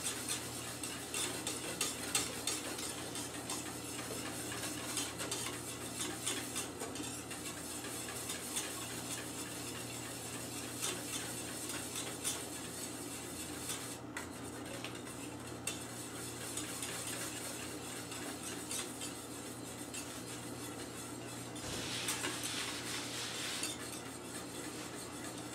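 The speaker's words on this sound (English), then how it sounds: "You just want to make sure you stir it well after, but try to just stir it well right away" A spoon scrapes and taps steadily inside a pot while thickening crème pâtissière is stirred, with soft continuous clinking and a low background hum and no talking.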